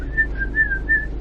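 A high, pitched whistling tone in three rising-and-falling pulses, heard plainly over a low rumbling background, blamed on wind in windswept Scotland.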